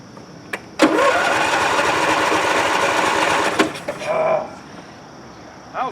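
Small V-twin engine on a John Deere LA145 riding mower cranking over with the starter for about three seconds, a loud steady whirring grind that fails to catch, followed by a few clunks and faint voices nearby.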